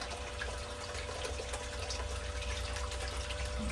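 Steady water gushing from a valve into a gold panning sluice, a constant close rushing wash with a faint tonal hum underneath, no voices.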